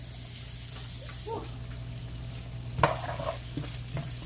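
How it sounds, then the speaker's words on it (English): Food frying in olive oil over high heat, a moderate continuous sizzle with a sharp utensil knock and light stirring clatter partway through, heard close and without talk. "I've got them cooking in some olive oil, so we're just going to let them just sit there and fry real nicely"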